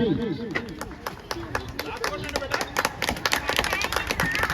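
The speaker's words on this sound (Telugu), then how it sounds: "Give her a big round of applause" A crowd claps for a child at a Bala Gokulam Gita Jayanti event: brisk, scattered applause that builds in density, heard under an announcer's voice and general hubbub.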